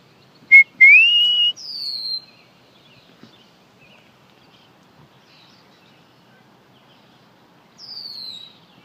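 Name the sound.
blackbird singing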